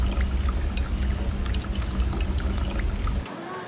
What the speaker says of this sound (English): 50 to 100 pounds of molten aluminum, now at over 1300 degrees Fahrenheit, is poured into the steel mold.